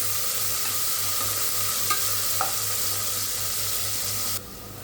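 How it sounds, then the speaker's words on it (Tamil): Onions deep frying in a pan of hot oil for kushka, a steady dense sizzle with a couple of faint utensil taps, close and continuous, dropping in level at the very end. "வெங்காயம் வந்து நல்லா டீப் ஃப்ரை ஆகும், நல்லா ப்ரௌன் ஃப்ரை ஆகும்."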